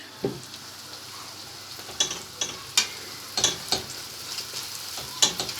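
Tomato paste sizzling and frying in a pan as it is sautéed, a steady soft crackle punctuated by several sharp scraping stirs of a spoon at close range.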